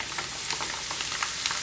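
Macaroni frying in hot oil, the pasta puffing up as it cooks for a beef-jerky lime-leaf snack; a steady, close hiss of bubbling oil with small crackles and pops, no voices.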